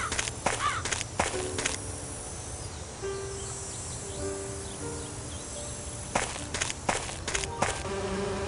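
Buzzing bees around beehives on an island in an Agatha Christie adventure game, a steady droning hum with clusters of sharp clicking bursts at the start and end, no talk.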